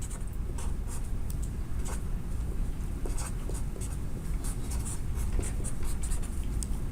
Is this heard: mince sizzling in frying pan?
no